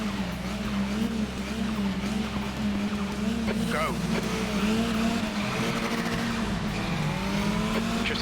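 A KTM X-Bow race car in the Raceroom racing game revs at the start of a race, with a steady engine drone, tire noise, and a voice talking over it throughout.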